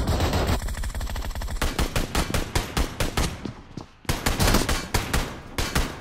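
Rapid automatic gunfire in PUBG Mobile, loud bursts of closely spaced shots that break off for a moment and then resume in steady repeated volleys, with no talking.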